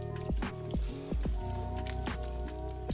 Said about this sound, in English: go ahead and stir that around.